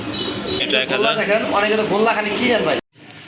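Pigeons for sale at a dealer's coop coo in soft, throaty bursts close by, mixed with dense voices talking over them throughout.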